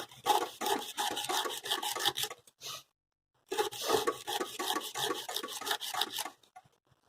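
A blade cuts through hard, abrasive material with a rasping, rubbing stroke rhythm, two bursts of rapid back-and-forth scraping separated by a brief pause, close and loud.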